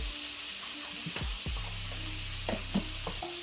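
Shrimp sizzle steadily in a pan of flavored oil, a continuous close frying hiss broken by a few clinks and stirring scrapes.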